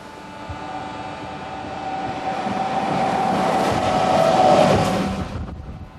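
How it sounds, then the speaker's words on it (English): A maglev train travels along its guideway, a smooth rushing hum swelling to a peak as it passes, then dropping away quickly. "Electric motors slow the traveling magnetic waves until the train stops and settles back to the guideway."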